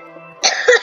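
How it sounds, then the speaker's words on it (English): A person coughs a few times in quick succession, close and fairly loud, following a short stretch of quiet background hum; the person has been feeling unwell. "I'm probably going to be coughing a lot in this video"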